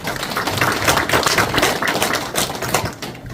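Audience at a policy forum on senior-citizen issues in a super-aged society applauding to welcome a speaker, dense, steady clapping close by that fades slightly toward the end.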